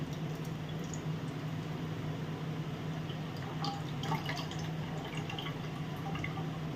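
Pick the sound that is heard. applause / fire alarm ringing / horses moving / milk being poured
milk being poured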